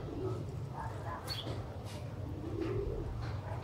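Breeding pair of 35-wala pigeons cooing softly in a loft, faint repeated low coos in a quiet, hissy background.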